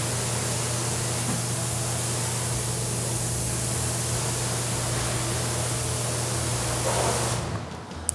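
Water misted from a spray bottle onto a car's coated paint and glass: a steady, close, broadband hiss that runs for about seven seconds and then cuts off.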